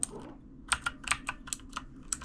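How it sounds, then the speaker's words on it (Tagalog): Keys on a keyboard bought for a computer shop being pressed, a quick irregular run of close, crisp clicks and taps with no talking. "Kasi ito yung keyboard ko na binili para sa computer shop."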